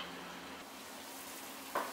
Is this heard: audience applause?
no